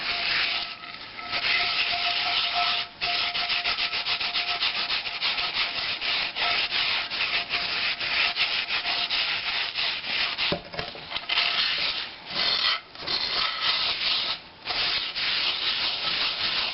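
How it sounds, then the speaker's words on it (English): Sandpaper is worked hard against a cast iron cookware piece being cleaned, a loud close rasping scrub in quick back-and-forth strokes, almost unbroken with a few short pauses. "And get this sanded out, and I'll show you what it looks like."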